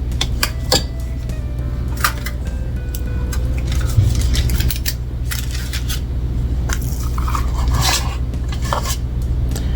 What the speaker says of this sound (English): This is an ice cream scoop, but I just use it to scoop my cookies with.